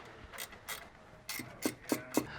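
A 10 mm wrench tightens a bolt on a lift kit bracket of a Toyota Tundra 5-inch lift, giving several short, close metallic ratcheting clicks in irregular bursts, with three sharper clacks near the end.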